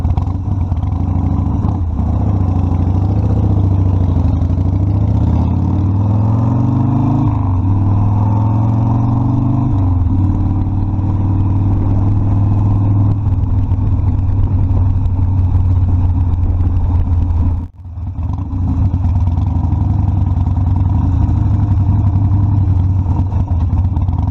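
A Harley-Davidson Sportster Custom 1200 engine runs loud and close for a long stretch, a deep throbbing rumble that rises and falls with throttle, broken by one brief dropout near the end.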